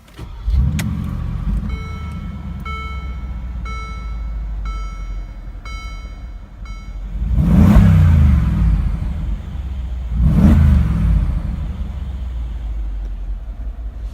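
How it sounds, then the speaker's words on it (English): A 2017 Mercedes-Benz AMG G63 SUV starts with a quick crank and settles into a rumbling idle, then gives two strong revs a few seconds apart that swell and fall back, close and loud. "Now let's jump into the driver's seat, start it up and see how it sounds"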